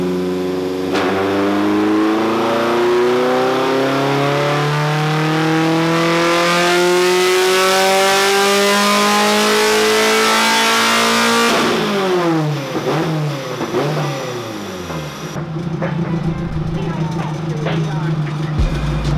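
A track-ready Mazda Miata engine screams on a dyno, revving loud and near as the pitch climbs steadily for about ten seconds, then drops back with crackles and pops before settling to idle.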